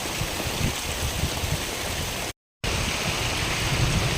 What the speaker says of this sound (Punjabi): ਬੜਾ ਮੀਂਹ ਤਕੜਾ ਦੇਖੋ